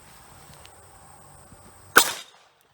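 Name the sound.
32 ACP pistol shot hitting Soviet SSh-68 steel helmet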